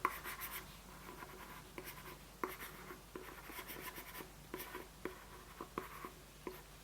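A stylus writes on a DoogleBooks PRO writing board with a steady, soft scratching and scribbling. Small sharp taps mark each stroke, close and quiet, with no talk.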